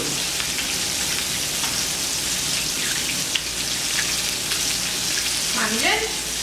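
Dense, steady crackling and sizzling of a whole snapper deep frying in hot oil, with a faint voice briefly audible near the end.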